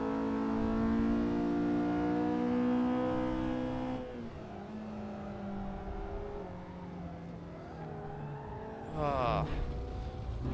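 A race car engine at Spa in a sim racing video game howls under acceleration, then drops in pitch as it brakes and engine-brakes, before a brief rising rev near the end.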